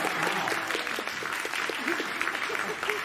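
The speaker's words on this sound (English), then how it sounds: "We're going to clap for you." Room full of people clapping together in a steady patter at a music gathering, with some voices and chatter mixed into the applause.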